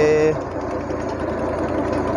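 A tractor-driven borewell drilling rig's engine runs steadily close by, a loud continuous mechanical drone with a brief higher tone at the start.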